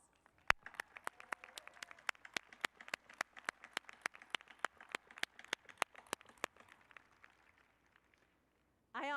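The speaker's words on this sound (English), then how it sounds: "I'll lead one more round of applause." A few people clap slowly and distinctly for law professors at a College of Law hooding ceremony, with individual claps sounding faint and spaced out before fading to quiet and a voice resuming.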